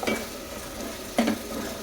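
Blended tomato puree tipped into a hot pan sizzles steadily while being stirred, with a brief louder splash and scrape partway through; close and moderately loud, no talking.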